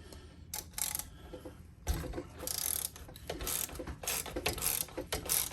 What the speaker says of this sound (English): then the Allen goes right in there, and then I just loosen it